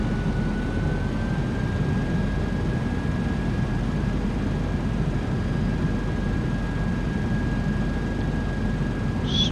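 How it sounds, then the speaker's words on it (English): An F-16 in a flight simulator game, its engine a steady, loud jet roar with a constant whining tone held throughout, droning without change and with no voices. "That way you guys can see the afterburner and external view when we take off next."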